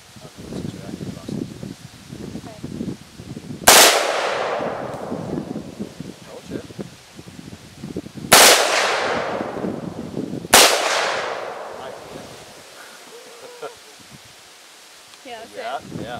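Three sharp, loud gunshots ring out outdoors, each followed by a long decaying echo, spaced several seconds apart, with people talking and rustling in between.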